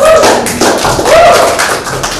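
A classroom audience at an English-department microteaching session claps together in a dense, steady patter for about two seconds, with a voice briefly heard over the clapping.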